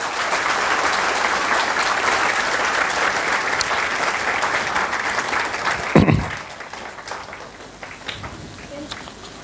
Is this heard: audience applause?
yes